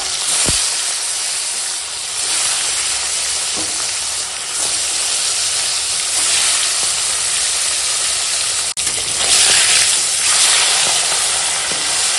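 Fish sizzles loudly in hot oil, a constant crackling hiss with a few clicks and clatters of cookware, no talking.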